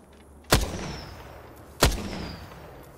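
Two loud, sharp gunshots in an Apex Legends match, spaced about a second apart, each with a ringing tail and no talk.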